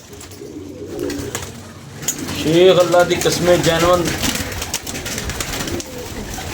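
Pigeons coo in soft, rolling calls through the middle of the clip, mixed with people talking nearby and some background clatter.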